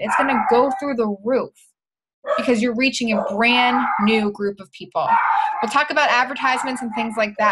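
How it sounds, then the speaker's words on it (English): Dogs bark intermittently in the background of an indoor talk while a person speaks steadily over them, the voice staying in front. "sorry for the dogs going off in the background"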